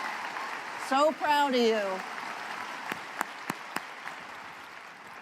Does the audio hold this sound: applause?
yes